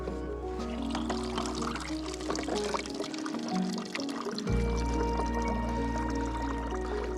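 Water pouring into a mug at an aid station during a Swedish ultra trail race, a steady close pour that shifts and deepens partway through as the mug fills, with faint background bustle.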